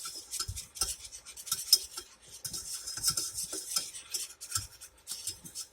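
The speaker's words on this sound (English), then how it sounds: "Get a little small whisk and whisk it together." A small whisk stirs flour together in a pan for chicken and dumplings, giving a steady run of light scraping and metallic clinks against the pan, close and fairly quiet, with no talking.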